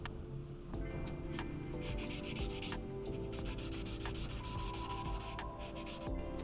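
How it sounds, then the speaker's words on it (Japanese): Sponge sandpaper rubs along the edges of a 60-year-old Teisco BS-101 bass guitar during restoration, a close, continuous scratchy sanding in repeated back-and-forth strokes. "エッジ処理が完了したらスポンジヤスリですり合わせの傷を消しておきます。"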